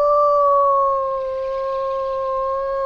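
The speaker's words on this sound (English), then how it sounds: "Maybe if I just go ahead and howl them" A wolf in the video game Lost Ember lets out a single long, sustained howl, a clear steady tone with gentle pitch sag, loud and close with no talk over it.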